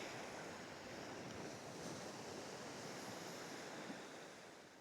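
Waves rolling onto a beach at Cherating, Malaysia, a soft continuous wash of surf mixed with wind rumble on the microphone, fairly faint and easing slightly toward the end, with no voices.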